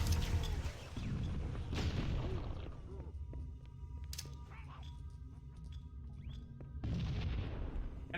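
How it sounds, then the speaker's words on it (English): Explosions in the shooter Halo: Combat Evolved, with heavy bursts near the start and end and quieter game ambience and tonal effects between them, no voices. "Thing's exploding."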